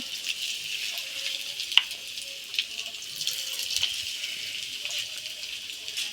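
Chicken frying gently over low heat in a pan, a soft, even sizzle with a few faint pops and crackles scattered through it.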